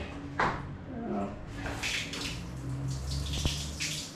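Water tap running in a cheap hotel room, a steady splashing hiss with small knocks and clatter, fairly close, while a person speaks over it.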